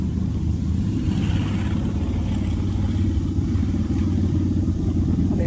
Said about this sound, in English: there's that motor revving